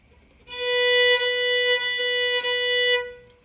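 A single sustained natural note on violin, steady and clear with a rich stack of overtones, held about two and a half seconds at moderate volume, played solo with no speech.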